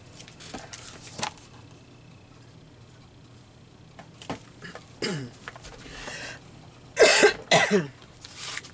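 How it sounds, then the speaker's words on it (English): Several sharp coughs burst out in quick clusters near the mic, a couple early and a louder pair toward the end, over quiet room tone. "Sorry about my cough today."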